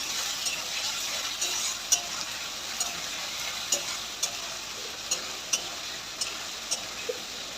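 A spoon stirs an onion, cumin and spice paste in a pan, giving a steady faint sizzle with a few light, sharp scrapes and taps at irregular intervals and no talking.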